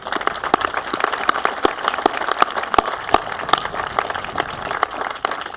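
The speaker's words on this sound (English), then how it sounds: "Please join me in a round of a great applause for the Dickinson family." Steady applause from a crowd at a military change of command ceremony, continuous clapping at an even level throughout.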